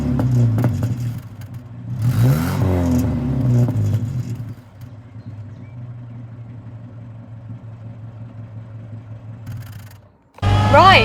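A 1960s Singer Gazelle Series V saloon car engine runs steadily at idle, with a brief rev and louder bursts near the start and a loud surge right at the end.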